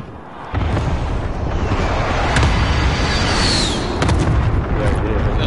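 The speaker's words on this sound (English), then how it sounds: "Be advised, friendly precision airstrike inbound." Precision airstrike explosions in Call of Duty Warzone, a loud sustained barrage of heavy booms and rumbling blasts with sharp cracks over a dense roaring bed.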